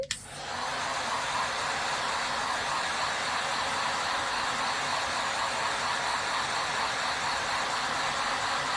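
A hair dryer switches on and runs at a steady, loud whooshing roar to dry wet paint on a flower door hanger, continuing unbroken with no talking.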